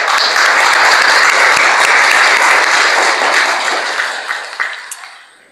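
Audience at a healthcare policy talk applauding to welcome a guest speaker, dense sustained clapping from a large crowd that holds steady, then tapers off with a few last claps.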